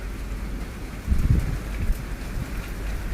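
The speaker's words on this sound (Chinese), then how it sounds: "又下了，你看。" Rain falls steadily on surfaces nearby, with a brief low gust of wind swelling in the middle.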